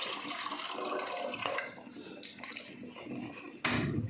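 Water is poured into a pot for making milk tea in a village kitchen, a close splashing stream that surges suddenly loud near the end.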